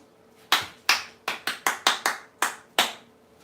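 Earl the cockatoo claps in a loose run of about nine sharp, close smacks, some in quick pairs, others spaced by short pauses, each crisp with a quick decay in a quiet room.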